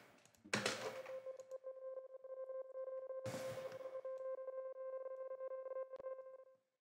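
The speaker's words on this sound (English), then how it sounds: "Then there's this FX pad." Synth FX pad in a music production session: two noisy swooshing bursts over a steady sustained tonal drone with a faint pulsing texture, fairly quiet, ending abruptly with no talking.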